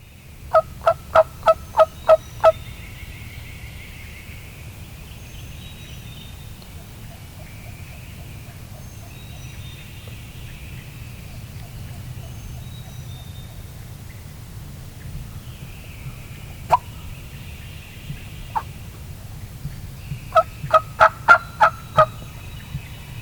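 Wild turkey gobblers sounding off from the roost in the woods at dawn: a rapid burst of gobbles at the start, scattered single calls mid-stretch, and another loud run of gobbling near the end over a quiet, low ambient hum.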